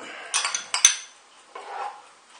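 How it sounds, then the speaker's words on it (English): Spoon scraping and clinking in a pot of hot and spicy chicken soup: a few close metallic knocks and a sharp tap against the rim, then a softer swirling scrape, with no talking. "Just give that a little stir."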